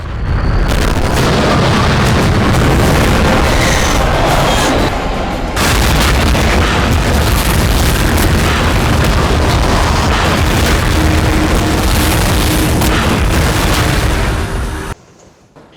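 Artillery guns and explosions boom in a dense, loud, continuous roll of heavy blasts with almost no gaps, then end abruptly near the finish. The artillery belongs to Chinese forces near the Line of Actual Control.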